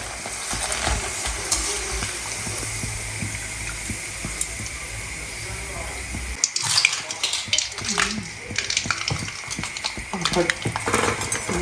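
Puris frying in hot oil in a pan, a continuous close sizzle and bubbling that shifts and crackles more unevenly partway through, with someone talking over it.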